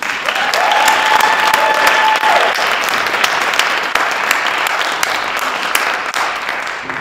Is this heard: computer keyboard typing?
no